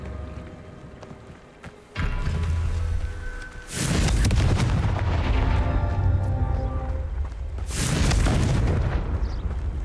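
Repeated Confringo explosion spells in Hogwarts Legacy: loud, sustained booming roars with heavy low rumble, erupting in successive waves after a quieter opening.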